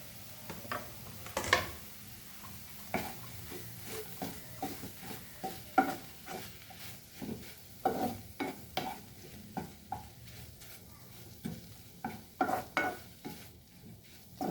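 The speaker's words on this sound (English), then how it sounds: "So fry this nicely." Ridge gourd flowers fry in a pan without oil, giving a faint, low sizzle broken by repeated scraping and stirring strokes at an uneven rhythm, with no talking.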